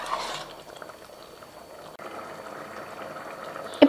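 Rice and water for mushroom biryani simmer in an open pressure cooker, giving a faint, steady bubbling hiss with a brief louder clatter at the very end.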